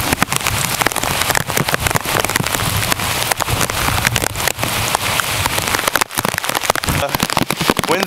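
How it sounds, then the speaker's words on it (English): Moderate rain from a tropical storm squall pours steadily, a dense, continuous patter of drops with sharp crackling spatters throughout and a brief lull near the sixth second. "Here comes that rain squall that we've been telling you about all evening long. Rain's coming down at a moderate rate."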